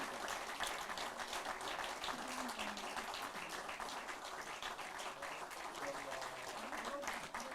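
Members at a party assembly electing a floor leader in 2022 applaud in a long, even stretch of clapping that fills the hall, with talking mixed in underneath.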